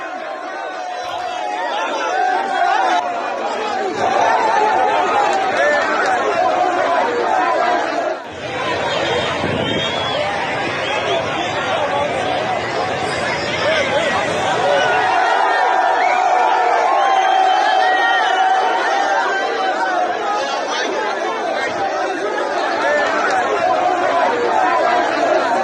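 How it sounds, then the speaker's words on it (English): A large crowd of protesters blocking a roundabout in Nigeria during hunger protests, a dense continuous roar of chatter, shouts and whoops filling the whole stretch, loud and close. "Look at that large crowd."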